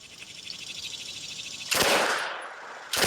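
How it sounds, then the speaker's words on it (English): A submachine gun fires in rapid full-auto bursts, a loud sustained stream of shots with a brief pause before a second burst starts, sharp and close with no talking. "submachine gun. Check it out."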